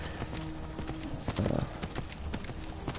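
Hooves of the skeletal horse Arvak clip-clop steadily in Skyrim Special Edition, a dense run of close, loud footfalls over game background sound with a brief busier burst near the middle.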